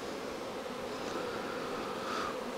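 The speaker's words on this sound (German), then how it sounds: "Da sind noch einiges an Bienen drin" Honeybees buzz steadily inside a hive, a dense continuous drone of many insects close by with no talking.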